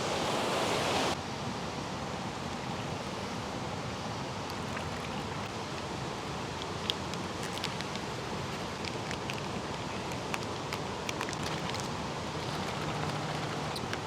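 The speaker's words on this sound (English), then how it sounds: "I'm gonna go get some river water." Steady broadband rush of a flowing river near a spot where water is gathered for filter testing, continuous and fairly loud with no talk, a few faint clicks and splashes scattered through.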